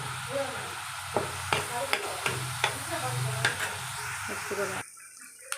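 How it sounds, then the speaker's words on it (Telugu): Brinjal pieces sizzle steadily while being fried with turmeric in a pan, with a spatula stirring and scraping in sharp repeated clicks over the continuous frying hiss. "ఇట్లా అయితే వంకాయలు ఫ్రై అయిపోయినాయి"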